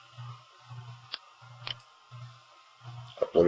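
Mouse clicks while uploading files on a computer: two sharp, isolated clicks sound close and clear, then a small cluster of clicks near the end, over a faint repeating low hum.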